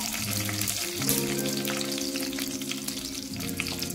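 Dried red chillies frying in oil for a fish curry, making a steady close sizzle with light crackles that stays even throughout, alone with no talking.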